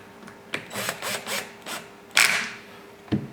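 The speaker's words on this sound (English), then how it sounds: "Make sure your drill driver is at a low torque setting. Do not overspin. Just get them down snug." A cordless drill driver on a low torque setting runs screws down snug, giving close, short rasping and whirring bursts separated by brief pauses, with a sharper knock near the end.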